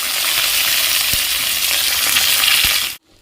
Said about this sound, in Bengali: আলুটা ভেজে নি।